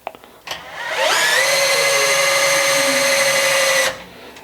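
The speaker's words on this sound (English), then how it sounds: "the drill can move the table in both directions." A power drill turns a homemade spinner that drives a table back and forth. It spins up quickly into a loud, steady high-pitched whine that holds for about three seconds, then cuts off abruptly, with no talking.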